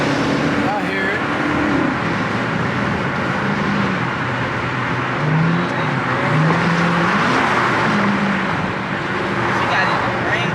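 A Dodge SRT's engine and exhaust rumble at a car meet, a steady, fairly close drone with some rising revs, and people talk over it throughout.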